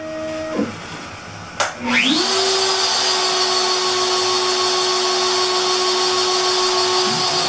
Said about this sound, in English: Spindle is on, and it's going to start carving.